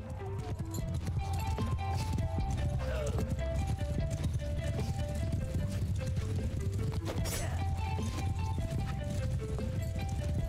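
Horse hooves clip-clop in steady galloping rhythm in the Mount and Blade Bannerlord video game, set against constant loud music and game noise, with a horse whinny briefly breaking through.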